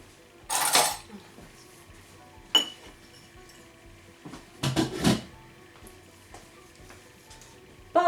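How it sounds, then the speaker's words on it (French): Cutlery and dishes clink in a kitchen as a teaspoon is fetched, with a loud rattling burst near the start, a single sharp clink, then a second cluster of metallic clatter and faint clicks afterward. "Je vais chercher la cuillère à café."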